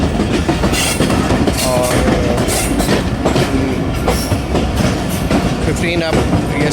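Mehar Express passenger train approaching Muzaffargarh railway station in Pakistan, loud and close, with rhythmic clickety-clack of wheels over rail joints, rumbling wagons and brief wheel squeals, while someone talks over it.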